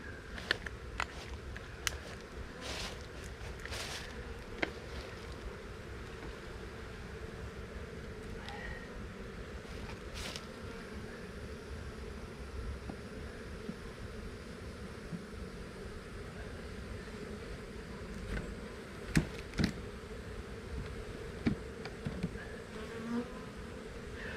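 Honeybees buzzing steadily around Dadant hives, a constant dense insect drone with scattered closer passes of individual bees flying near and away.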